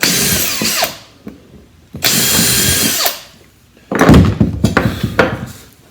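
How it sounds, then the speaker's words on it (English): Power drill bursts boring through wood with a drilling jig during a kitchen fit, three loud whirring runs separated by short pauses, close up with no talking. "So with this, very simple, little jig, just drill through."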